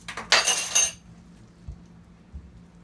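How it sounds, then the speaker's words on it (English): Pizza dough gets mixed with oil in a bowl, a short burst of clinking and scraping against the bowl at the start, followed by quiet with a couple of faint soft bumps. "we're going to get in there and mix it all up"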